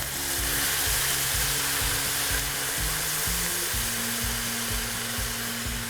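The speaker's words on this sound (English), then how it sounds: "Now I'll deglaze with red wine." Red wine hits a hot pan while deglazing for a braised pork ragu, producing a loud, steady sizzle and hiss that runs throughout, over a low cyclic hum from a nearby kitchen appliance.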